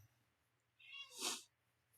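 A single cat lets out one clear meow, rising and falling in pitch, close and fairly loud against an otherwise quiet indoor background.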